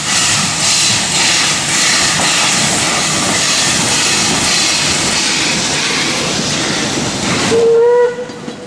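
Loud, continuous hiss of steam with heavy rumbling close by from the Puffing Billy steam train arriving at Emerald Lake Park, Melbourne, then a brief whistle blast near the end before it cuts off.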